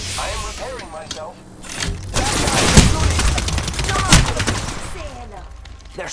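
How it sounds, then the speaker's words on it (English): Gunfire aimed at the player in a video game, bursts of shots building into loud rattling volleys over game noise, with speech mixed in. "They're shooting at me?"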